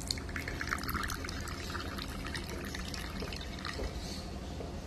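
Coffee brewed in a Bialetti Brikka moka pot being poured, a soft steady trickle and drip of liquid heard close and alone, with no talking.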